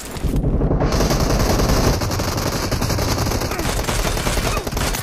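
Rapid automatic gunfire from a PUBG Mobile match played on a POCO X3 Pro with a GameSir X2 gamepad, a loud continuous burst of shots with dense crackling that carries through the whole stretch.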